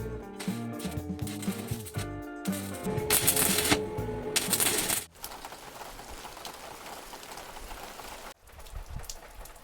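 Rain falls steadily during a storm, a dense hiss of drops pattering on a surface, preceded by a few seconds of busier clattering that blends into the downpour.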